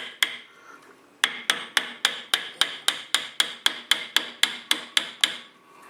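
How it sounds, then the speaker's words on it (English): An aluminum part tapped into a C4 Corvette rear suspension with a hammer, about eighteen sharp metallic taps in a quick even rhythm, close and clear with no talk. "You can tap it in. Now remember, these are aluminum, so you don't want to beat the snot out of them."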